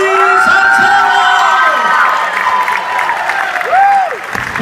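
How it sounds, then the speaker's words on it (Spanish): A church congregation cheers, whoops and applauds loudly for Lenny Salcedo, with sustained clapping under shouted voices and rising tones, tapering slightly near the end. "Señoras y señores, démosle un fuerte aplauso a Lenny"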